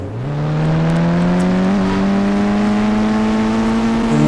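A car engine in an Indian bike video game, a loud continuous drone that rises steadily in pitch as it accelerates, heard alone without talk.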